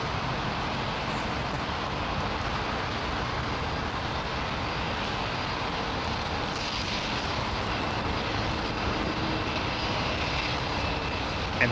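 An Emirates Airbus A350 jet moving at Toulouse gives off a steady, broadband engine roar that holds at an even level throughout, with no voices.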